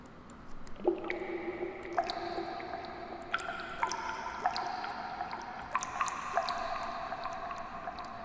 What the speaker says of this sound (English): I get different sort of dripping water sounds